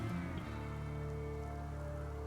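Rain falling in the video game Rimworld, a faint, steady hiss of rainfall on surfaces with a soft low hum underneath, continuous and unbroken.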